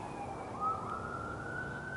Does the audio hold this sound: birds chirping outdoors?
no